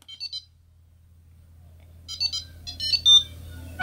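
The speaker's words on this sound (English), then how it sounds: "if you wanna find your phone too, you can just double click the tile button" A phone rings after being located with a Tile tracker button, giving short bright electronic chirps, one brief burst at the start and then a louder cluster of repeated beeps near the end over a low hum.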